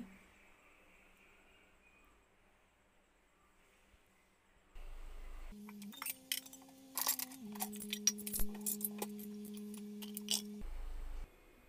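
Washed dishes and utensils are picked up and set away in a home kitchen, giving a run of close clinks and clatters over a steady hum, with brief quiet gaps before and after.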